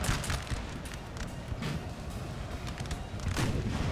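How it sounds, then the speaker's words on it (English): Musket volleys from skirmishers in a Napoleon Total War battle, a dense continuous crackle of overlapping gunshots with heavier booming thuds, loud and sustained throughout with no pauses. "we have some Polska skirmishers firing on this unit of George von Pick"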